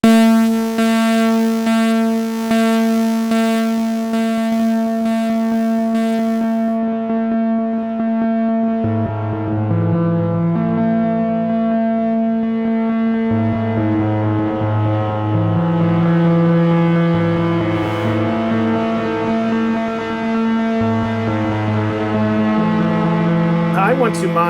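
A Make Noise Strega modular synthesizer holds a deep, sustained drone as its time circuit is blended in, and the stepped tones shift and thicken. A voice speaks faintly underneath.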